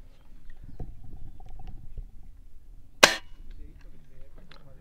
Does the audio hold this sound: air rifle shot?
yes